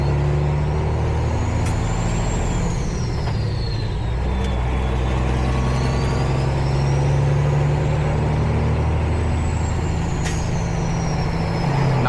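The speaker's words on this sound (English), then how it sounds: "There's another nice truck coming in here." A Peterbilt truck pulls in with a steady low diesel rumble. The engine drones evenly and stays fairly close throughout, and a few brief hissing or squealing sounds rise above it.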